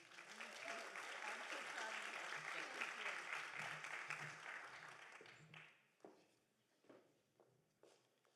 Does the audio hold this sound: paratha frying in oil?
no